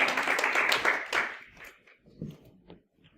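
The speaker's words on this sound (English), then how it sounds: "So give them a round of applause." A small audience at a kids' talk applauds two volunteers coming up to the front, a brisk burst of clapping for about a second and a half that quickly thins out into a few scattered claps and quiet.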